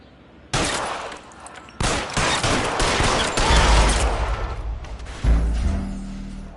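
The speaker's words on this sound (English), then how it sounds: "Shots fired." Gunfire in a cops-and-robbers video game, loud close bursts of rapid shots opening abruptly and repeating in volleys, with heavy booming impacts toward the end, no talking over it.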